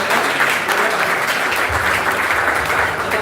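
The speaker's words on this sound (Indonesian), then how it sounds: "Berikan tepuk tangan untuk pastor-pastor." Loud, sustained applause from a church conference audience greeting a group of pastors, a thick wash of many hands clapping without pause and no voices on top.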